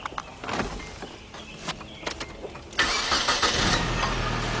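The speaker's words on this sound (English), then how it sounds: "we're going to start the vehicle up and let it run" A 1993 Nissan Altima with a 2.4 engine that stalls when hot: a few clicks and clunks, then the engine cranks and catches and settles into a steady close idle.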